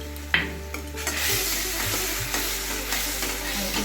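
Masala mixed with sour yogurt and a pinch of sugar sizzles over a lowered gas flame for hilsa biryani, a steady crackling fry punctuated by the scrape and knock of a spoon stirring in the pan.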